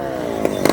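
Honda and Kawasaki motorcycles pass on a road during a ride toward Tagaytay City, engines rising in pitch and growing louder as they approach, with a couple of sharp bursts near the end.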